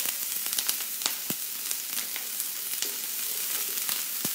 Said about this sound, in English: I'm going to put 2 tablespoons of olive oil in my skillet